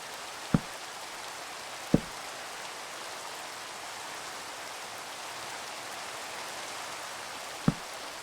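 Continuous rainfall in a Minecraft Skyblock game washes evenly throughout, a steady hiss broken only by three short sharp clicks, with no one talking.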